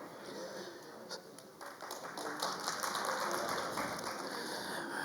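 Audience applause welcoming the chief speaker, a film actor from Australia, at a Sanskrit film festival event, a moderately faint patter of many hands clapping that builds and holds steady across the few seconds.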